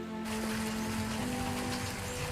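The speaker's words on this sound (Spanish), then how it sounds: "Está lloviendo bastante fuertecito, espero que no afecte mucho el sonido." Fairly heavy rain falls in a steady, dense patter with a constant hiss and some hum under it.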